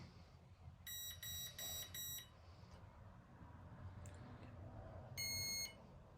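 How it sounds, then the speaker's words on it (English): Bursts of rapid, high-pitched electronic beeps from a Flex Innovations Mamba 60E speed controller in an RC airplane power pack sound in short groups, with a pause between, over a low background rumble. "So now you have 1 beep, 2 beeps"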